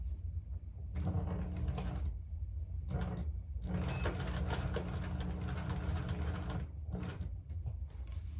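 A sewing machine stitches plaid fabric for men's pants, running in two bursts of steady mechanical whirring separated by short pauses, fairly close and unaccompanied by talk.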